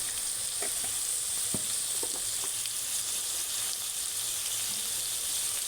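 Nalleru pieces with turmeric frying in a kadai, giving a constant hissing sizzle with a few faint stirring taps, close and even in level.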